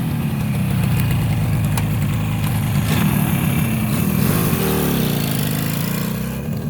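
A Yamaha R5 350 two-stroke motorcycle idles nearby in a museum setting, a steady buzzing putter running continuously and fairly loud throughout.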